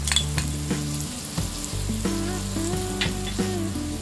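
Chopped onions frying in a pan for a Mysore masala dosa potato filling, a close, steady sizzle with a few scraping stirs and low hums from the stove, no talk.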